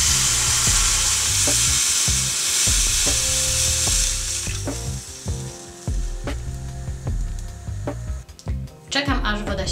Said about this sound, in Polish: Całość mieszam i duszę około 10 minut.